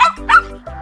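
A dog gives a couple of quick, close yipping barks followed by a short whimper, all within under a second.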